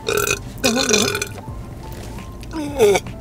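A few long, drawn-out burps, loud and close, with brief pauses between them and a little quiet talking nearby.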